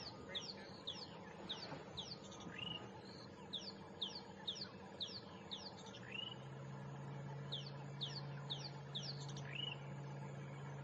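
A rattling cisticola calls repeatedly in the bush at Djuma Game Reserve, a string of quick high chirps and trills at a moderate distance, fairly faint over a low steady rumble.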